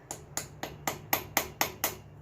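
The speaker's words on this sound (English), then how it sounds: "taking a punch here and popping a" Metal punch struck by a hammer to pop out a dent on a 1977 Chevy Camaro body, eight sharp, evenly spaced close taps in a steady rhythm over a low hum.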